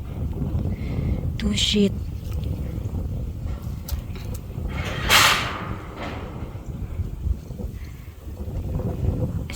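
Strong gusting wind buffets the microphone outdoors while a rope is tied down, a steady low roar with louder surges, heard under a man's ongoing speech.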